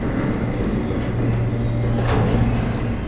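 Elevator rising in realMYST, a continuous low mechanical hum and rumble with a steady drone, plus a faint brief clunk partway through, with heavy rain audible in the background.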